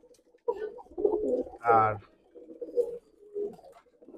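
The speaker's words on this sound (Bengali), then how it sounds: "এই যে কবুতরগুলো" Nildumma pigeons give several close, throaty coos in short bursts, with a man's brief spoken word mixed in.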